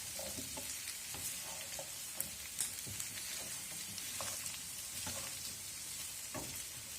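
Steady, close sizzling of onions frying in a pan, with occasional stirring scrapes and crackles throughout, no voices.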